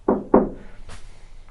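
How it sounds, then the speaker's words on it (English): Two sharp close knocks on the ceiling panel of a Ford Transit Connect van half covered with Noico sound deadening mat, followed by a faint softer tap. "Alright, we're going to do the old knock test with half of it up."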